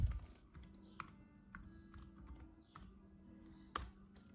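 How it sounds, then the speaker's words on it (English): A password typed on the aluminium-bodied keyboard of a Dell XPS 13 laptop: faint, quick key taps in short irregular bursts, close by, with a couple of sharper clicks and no talking. "Let's type the password."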